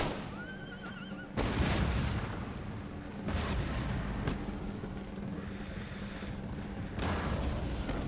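Volleys of musket and artillery fire from troops in the game Empire: Total War, several loud broad booming bursts that cut in and fade, with a steady low battle rumble between them.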